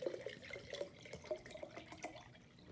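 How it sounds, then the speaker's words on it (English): Clear liquid poured from a bottle into a clear glass jar, a quiet trickling and bubbling pour with small irregular splashes and gurgles, close up and with no speech. "if I were to pour my clear liquid into this jar"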